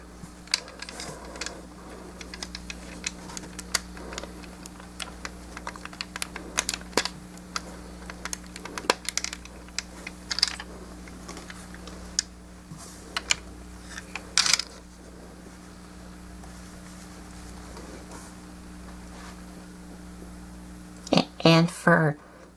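Plastic parts of a Mastermind Creations Optus Prexus Transformers figure slide and snap into place, giving scattered small clicks across the stretch and a quick cluster of sharper clicks near the end, over a steady background hum.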